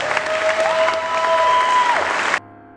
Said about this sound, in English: round of applause for Craig